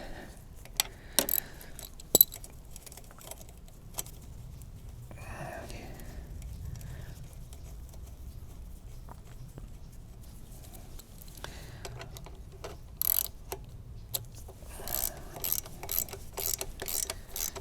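A ratchet tightens an exhaust clamp while fitting a GPR muffler on a Honda NC750X motorcycle, giving quiet, close clicking bursts in short runs with brief pauses.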